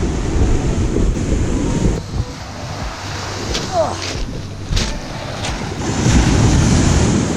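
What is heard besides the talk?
waves on the shore at Waterfall Beach, Grand Island, Michigan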